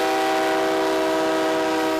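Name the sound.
train passing by on railroad tracks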